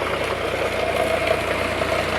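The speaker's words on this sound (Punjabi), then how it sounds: "ਇਹ ਵੇਖ, ਇਹ ਲੱਗਾ ਸਾਡਾ ਵੇਲਣਾ।" A tractor engine idles steadily as it drives a sugarcane crusher used to press juice for gur, a continuous mid-low rumble with a faint knocking vibration throughout.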